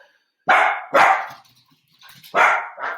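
A dog barks loudly and close by, two sharp barks in quick succession, a pause with faint sounds, then two more barks, one strong and one softer.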